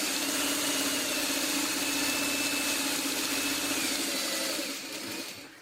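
A sewing machine hums continuously while stitching Y seams to join the bottom of a fabric string basket, a steady close motor drone that fades slightly just before stopping.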